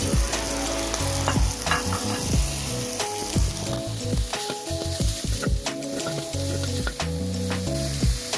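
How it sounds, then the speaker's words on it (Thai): Minced pork hits a hot pan with chili for Thai basil pork stir-fry, a loud continuous sizzle and frying crackle with scraping stirs, over a steady tonal background. "พอพริกได้ที่แล้วนะครับ เราก็ใส่หมู ลงไปนะครับ"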